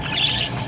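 Pet parakeets chirp in a steady, dense twittering that is close and moderately loud, with no talking.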